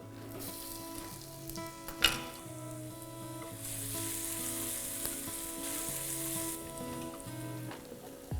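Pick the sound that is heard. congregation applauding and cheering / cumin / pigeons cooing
cumin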